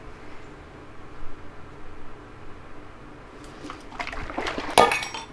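Canned coconut milk poured into a bowl, a quiet low rumble giving way to a brief liquid splash and clink near the end.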